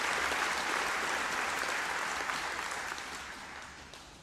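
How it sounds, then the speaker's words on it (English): Audience at a senior awards ceremony clapping steadily, a dense wash of many hands that gradually fades toward the end. "So please give them another round of applause."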